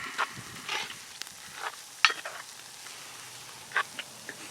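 Venison taco soup with a ranch packet being stirred in a cast iron Dutch oven, soft scraping and clinking strokes at irregular intervals over a quiet background.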